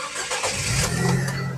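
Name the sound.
Nissan Grand Livina 1.5 car engine starting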